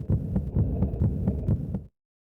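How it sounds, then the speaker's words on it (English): A Chrono Trigger video game heartbeat thumps in a loud, steady pulse of about eight beats over a low hum, then stops abruptly into silence. "as you approach, the heartbeat sound speeds up and speeds up"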